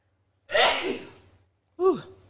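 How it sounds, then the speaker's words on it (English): A person sneezes once, a sharp breathy burst that trails off, followed after a short pause by a brief voiced exhale or sigh, close to the mic in an otherwise quiet room. "I got to sneeze now."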